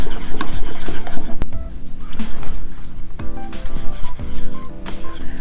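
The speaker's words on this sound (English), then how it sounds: "now I'm just going to stir this up until it's smooth as well and well combined" A utensil scrapes and rubs steadily around a bowl while agave nectar is stirred into vegan pancake batter, loud, close, rhythmic strokes continuing throughout with no speech.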